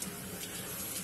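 Water streaming and splashing as plants are watered at night outside a house, a brief, soft, continuous gush heard at a distance.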